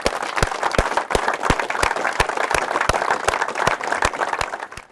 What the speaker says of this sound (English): a big round of applause for Daiwa UK